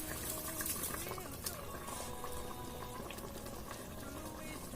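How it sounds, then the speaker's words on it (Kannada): Rice going into a pressure cooker pot of fenugreek pulao, with water bubbling and simmering steadily throughout, a soft continuous liquid churn heard close by. "ನಂತರ ಇದಕ್ಕೆ ಅಕ್ಕಿನ ಸೇರಿಸ್ಕೊಳ್ಳೋಣ"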